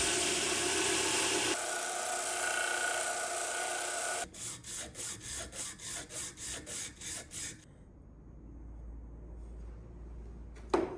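A hand file works across the steel ricasso of a 59-layer damascus bowie knife in rhythmic strokes, first long continuous rasping, then a run of about ten short even scrapes, followed by quieter handling.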